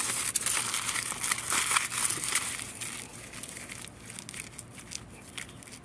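Aluminium foil holding a pocket of soil is squeezed and folded into a ball, making close, crinkly crumpling that is busiest at first and then quieter, with no voices.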